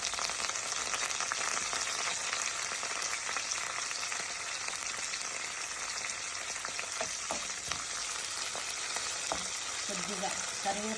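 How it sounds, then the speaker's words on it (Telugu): Curry leaves and green chillies fry in hot oil for tamarind rice, a soft and continuous sizzle with occasional light stirring taps toward the end. "కొద్దిగా కరివేపాకు, పచ్చిమిర్చి దూరగా వేగాలి."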